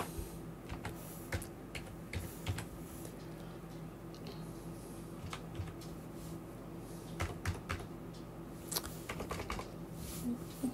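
Keyboard typing as a pigeon ring number is entered on a computer, a run of quiet, uneven key clicks with short pauses, close and faint, with no talk.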